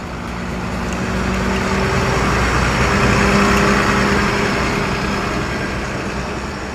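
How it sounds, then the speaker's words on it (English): A green water truck's engine idles with a steady low rumble that swells gently, holds, then eases off slightly, heard alone without voices. "A green water truck."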